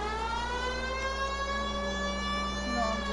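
A police car siren wails steadily in the video game L.A. Noire, loud and continuous over a low engine hum, with no voices.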